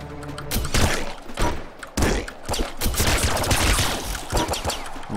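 Dense in-game gunfire from the video game Nuclear Throne, rapid overlapping shots and thumping impacts in loud continuous volleys with a brief gap near two seconds.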